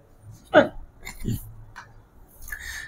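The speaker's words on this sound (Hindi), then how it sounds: "थोड़ा हिचकी आ रहा है आज" A man hiccups during a maths lesson, a sharp short burst near the start, with speech-like sounds around it.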